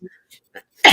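A single sharp sneeze bursts out loudly at the end, preceded by a few faint breathy catches and small throat sounds.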